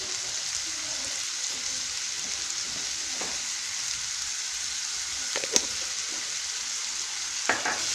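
Minced meat seasoned with salt and black pepper frying in a pan, a steady, close sizzle with a few soft scraping clicks as it is stirred.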